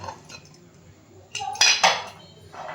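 Steel vessels and utensils clink and clatter as food is taken from a cooled pressure cooker after cooking vangi bhaat, a Karnataka-style brinjal rice; a few quiet taps open, then a louder burst of close metallic clanks.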